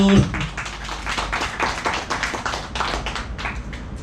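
Attendees at a redevelopment district delegates' meeting applaud together, a dense burst of close clapping that carries on steadily for several seconds and then thins, with no voices over it.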